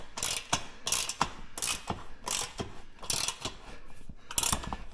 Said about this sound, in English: that's going to be a big Allen wrench. And we're going to need this we're tightening that down.